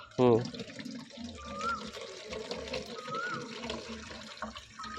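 Steady trickle and splash of water poured onto plants in a garden, running continuously at moderate level while voices chatter over it.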